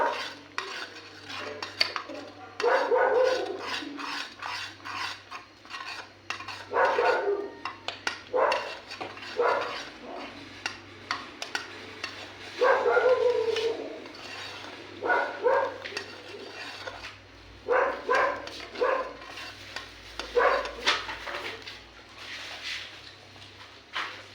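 Spoon stirring dry fruit into custard in a metal pot on a home stove, with a steady run of scraping, clinking strokes in repeated bursts, close and fairly loud, with a faint dog barking in the background.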